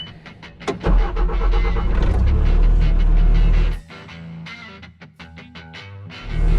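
Skid steer loader engine running near a collapsed museum roof: a loud, close diesel rumble surges up, holds steady, drops to a quieter idle, then revs again at the end, with scattered metallic clanks and clicks over it.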